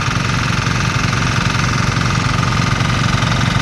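An engine-driven water pump, one of two sharing a single hose line to draw from a very deep source, runs close by with a loud, steady, rapid chugging throb that never lets up.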